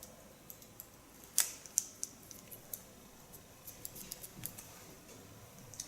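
Sharp scissors snips while cutting hair in a slice-cut technique, a scattered series of light, quick clicks, some closer and crisper than others, in a quiet room.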